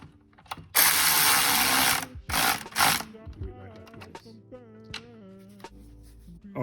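A ratchet with a 10 mm socket working a bolt on an M54 engine in an E46 BMW, bursts of rapid clicking then slower single clicks, close and fairly loud, with brief metallic taps.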